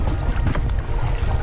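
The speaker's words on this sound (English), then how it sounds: "Very strong gusty wind." Strong gusty wind on open water at Narrawong blasts across the microphone from a canoe, a loud continuous roar with surging rumbles and no pause.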